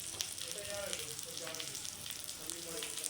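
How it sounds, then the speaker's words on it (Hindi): Shami kebabs fry quietly in a pan, a soft continuous sizzle with faint crackles, heard close but low in level, with no talking. "यहाँ पे बहुत ज़बरदस्त सी एक साउंड आ रही थी शामी फ्राई होने की"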